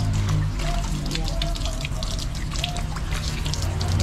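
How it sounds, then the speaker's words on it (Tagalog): Tap water runs steadily over boiled eggs to cool them, a continuous near splash and trickle with dripping over a low sink hum, no voices. "Pinadaan ko na sa gripo para lumamig ng tuluyan at ng madaling balatan."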